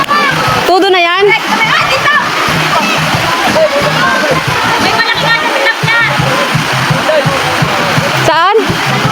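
Children splash and jump into a river, with repeated splashes and sloshing water under continuous excited chatter and shouting from kids and adults nearby.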